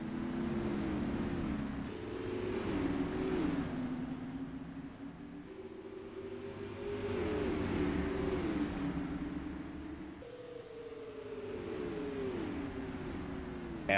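A pack of race cars pulls away at the start of a heat race at Music City Speedway, engines droning and rising in long waves of revving, heard from a distance over steady background noise.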